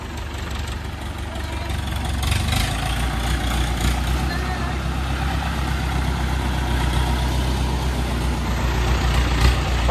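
A truck engine idles steadily and low as the vehicle is eased forward while a new Mahindra Powerol generator is handled, with a continuous rumble that runs throughout and people talking nearby.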